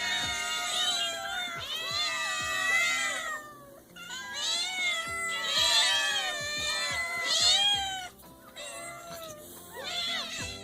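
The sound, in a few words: many hungry cats meowing at a farm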